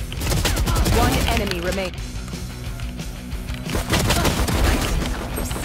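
Video game gunfire in a ranked match, rapid bursts of shots and booms up close over game music, with a brief lull midway before the firing resumes, and a voice speaking over it.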